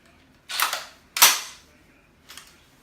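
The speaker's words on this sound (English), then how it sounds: "with the Thompson submachine gun, it is an open bolt firearm." Sharp, loud cracks from a WE Tech Thompson gas blowback airsoft submachine gun, two close shots about half a second apart, followed by a fainter third pop after a pause.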